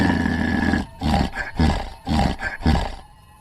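A ghost monkey roars in an animated Hindi ghost story, delivering four or five loud, rough bursts in a row with short pauses between them, close and forceful.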